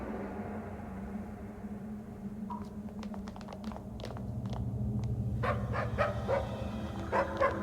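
A headless dog in Stygian: Reign of the Old Ones gives several sharp barks and yips. They come in uneven bursts over a low droning game ambience, with no talking.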